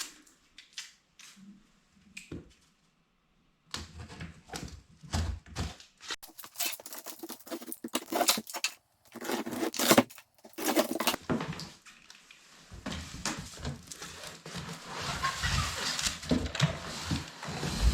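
A blade slices through the cardboard box of a Growatt 3000 watt, 24 volt solar inverter, with scratchy cutting and tearing bursts, rustling, and handling knocks close by, growing denser and louder toward the end.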